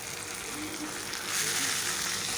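Water spinach (kalmou greens) frying with onion in a wok, a steady close hiss and sizzle that swells slightly partway through.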